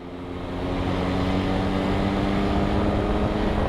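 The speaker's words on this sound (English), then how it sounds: "I've still got plenty of roll-on power, even in 6th gear here." Benelli TRK 502X motorcycle engine pulling under acceleration in 6th gear, a steady loud drone with harmonic engine tones and wind rush, rising slightly in level at the start and holding constant, no talk.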